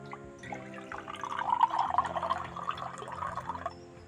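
Coconut water from a freshly cracked coconut trickles and splashes steadily into a tumbler for a few seconds, a close, continuous pouring sound with small drips, no talking.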